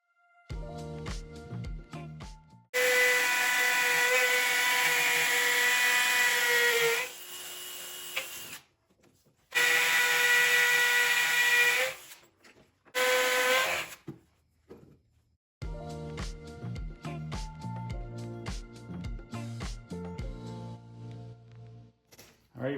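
A power drill drives screws through spider lath on a decorative column, giving several sustained whirring bursts separated by pauses, with clicks and handling noises between.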